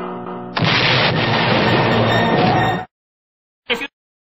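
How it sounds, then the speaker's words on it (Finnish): A loud tank cannon blast roars and rumbles for about two seconds, then after a pause a short sharp burst follows. "Tämä tankki ampuu 1 millin ammuksia."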